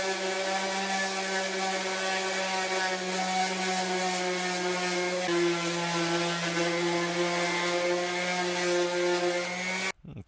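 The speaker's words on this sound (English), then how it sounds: "There's again our little 5-inch orbital sander." A 5-inch orbital sander works on PVC pipe with a steady, close electric whir and a constant pitched hum that dips slightly once midway and cuts off abruptly at the end.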